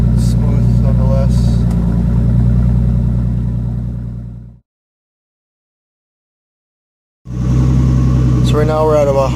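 A turbocharged L28ET engine in a 1970 Datsun 240Z idles warm with a steady, loud, low throbbing drone. It cuts to silence for a few seconds, then resumes, with a faint higher whine riding over it at the end.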